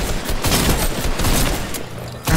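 Rapid bursts of gunfire from a Fortnite match fill the short stretch, loud and continuous with no talk over them.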